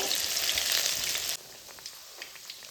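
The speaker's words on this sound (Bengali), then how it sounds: "প্রত্যেকটা পটল নিয়ে আমি ব্যাটারের মধ্যে ডুবিয়ে এক্সট্রা ব্যাটারটা ঝরিয়ে তেলের মধ্যে দিয়ে ভেজে নেব।" Battered pointed gourd sizzles loudly in hot oil for about a second and a half. The frying then drops abruptly to a quieter crackle with scattered small pops.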